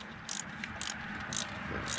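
A hand ratchet tightens a spark plug in the engine of a 2008 Nissan Rogue, giving four quick bursts of close, crisp clicking at a steady rhythm with a low hum underneath.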